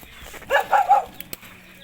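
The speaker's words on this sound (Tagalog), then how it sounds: "Dito na naman tumatapang na aso." An aggressive dog barks in a short burst of three or four loud, close yaps lasting under a second, followed by faint knocks in a quiet outdoor setting.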